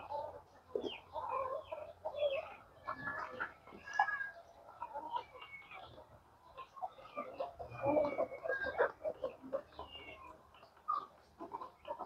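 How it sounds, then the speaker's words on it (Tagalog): Chickens cluck and squawk steadily throughout, a busy flock close by with overlapping calls and some faint rustling. "Yung mga manok natin guys."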